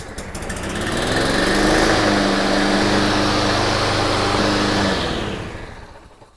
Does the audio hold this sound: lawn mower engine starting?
yes